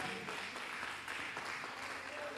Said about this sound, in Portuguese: Aplauda o Senhor então em nome de Jesus.